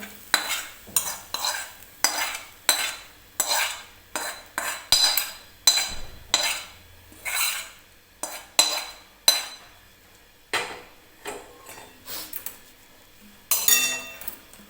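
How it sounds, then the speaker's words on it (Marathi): Roasted vegetables tipped into soaked semolina batter for instant rava appe and stirred in with a spoon, giving a steady run of close, loud scraping and clinking strokes against the bowl, with no talk. "आता आपण ज्या भाज्या छान अशा तेलामध्ये भाजून घेतलेल्या आहेत त्या मी या रव्यामध्ये टाकून घेणार आहे"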